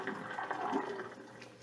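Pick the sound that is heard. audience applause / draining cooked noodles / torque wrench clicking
draining cooked noodles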